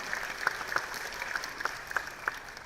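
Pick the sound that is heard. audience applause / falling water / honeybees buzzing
audience applause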